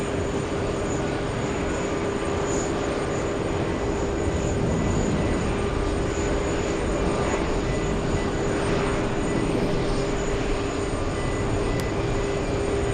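A Delta heavy jet airliner at JFK airport produces a steady, moderately loud engine rumble with a sustained whining tone running through it, unbroken and without talk.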